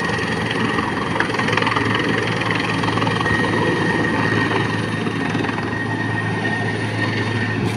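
A helicopter's steady engine and rotor drone holds at an even, loud level throughout, with a low throbbing hum and no talking.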